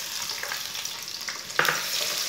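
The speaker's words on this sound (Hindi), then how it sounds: "आधा कप ऑयल, 1 चमची साबुत जीरा, 1 चमची साबुत धनिया, 1 बारीक कटा हुआ प्याज डाल लेंगे" Chopped onion with whole cumin and coriander seeds sizzles in half a cup of hot oil, a soft steady frying hiss with a brief louder crackle of stirring partway through.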